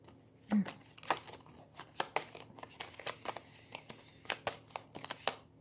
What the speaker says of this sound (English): Let me just shuffle and put all the cards.